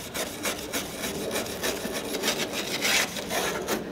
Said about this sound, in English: I have this metal brush, and all I want to do is just remove the big chunks